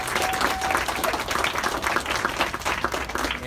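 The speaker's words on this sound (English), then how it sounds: "Give her a round of applause." A crowd applauds steadily at a store ribbon-cutting ceremony, dense clapping filling the whole stretch at a fairly loud level.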